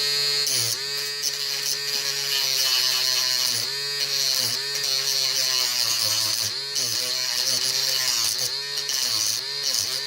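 A homemade USB-powered portable rotary tool whines loudly and continuously as its cutting bit is used for sanding, the motor pitch dipping briefly and recovering as the bit bites into the material.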